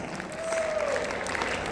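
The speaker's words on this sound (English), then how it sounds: "A big round of applause." An audience at a quiz event gives a short round of applause, a steady wash of clapping with a brief tonal whistle-like sound in the middle.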